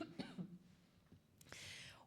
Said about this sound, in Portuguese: Ai, vou tossir.